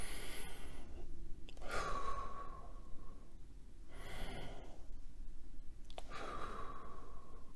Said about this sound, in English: Let me breathe. Do some hard breathing.